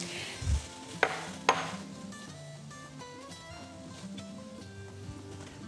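Minced meat for a zucchini and minced-meat stew hits a hot frying pan with a dull thud and a couple of sharp clatters, then settles into a steady, soft sizzle close by, with no talking.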